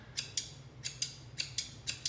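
Scissors snip wallpaper around an arch in a quick run of about eight crisp cuts, close and clear over a quiet background hum.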